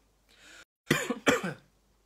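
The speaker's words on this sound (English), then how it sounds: "Sorry, got a little cough." A man coughs twice in quick succession, close and sharp, after a soft breathy throat sound. There is silence before and after.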